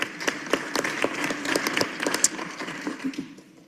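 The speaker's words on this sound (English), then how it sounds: "So give yourselves a round of applause for that." A scattered round of applause at a city council meeting, with individual claps standing out in an uneven rhythm rather than a dense roar, fading over a few seconds in a large room.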